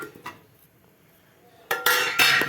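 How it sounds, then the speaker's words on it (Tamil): Oil-fried banana stem pieces go into a pot of Tamil banana stem curry. Quiet at first, then a burst of scraping and clattering against the metal pot, followed by a second loud clatter. "அந்த வாழைத்தண்டையும் இதோடு போட்டுடலாம்"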